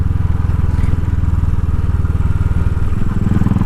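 A Royal Enfield motorcycle engine climbing a steep hill drones loud and steady at high revs, a close, continuous throbbing roar with no pauses.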